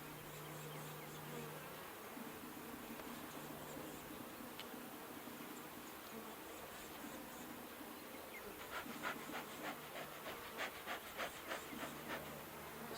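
Irritated honeybees buzzing around an opened beehive full of honey and brood, a steady close swarm drone with individual bees passing near, louder pulses toward the end, and no talk.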